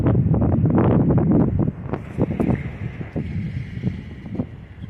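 Strong wind gusting beside a railway line on a stormy, rainy day, roaring loud and buffeting the microphone for the first half, then easing to a steadier, softer rush.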